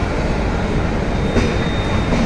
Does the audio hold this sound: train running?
yes